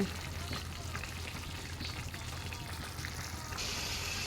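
A pot of Malabar spinach curry with onion and chilli bubbles and sizzles softly in a pan, a faint, steady frying crackle close by with no talking.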